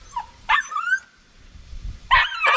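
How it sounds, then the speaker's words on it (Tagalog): A friendly pet dog at a Filipino home gives two loud, close bursts of barking and yipping, separated by a quieter whimpering stretch. "Alaga ko yung aso."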